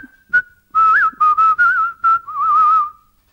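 A person whistles a short melodic tune, clear and close, with a few trilled turns between sustained notes, alone without talk.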